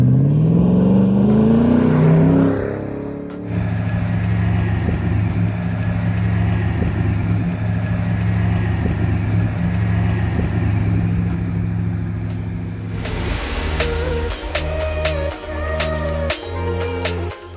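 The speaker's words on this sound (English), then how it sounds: "This 110 is powered by our GM LT1 450 horsepower engine with 8-speed automatic" A fully restored 1989 Land Rover Defender 110 with a GM LT1 450 hp V8 and 8-speed automatic, a steady loud engine drone that swells at the start, holds through the middle, then turns choppier with sharp clicks near the end.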